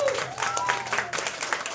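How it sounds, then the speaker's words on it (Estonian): Brief burst of concert applause at a Women's Day show, dense clapping with a voice briefly audible over it. "Teeme talle suure aplausi"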